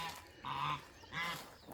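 Farm birds honk and call loudly in two goose-like bursts in the early morning, close by, with no one talking.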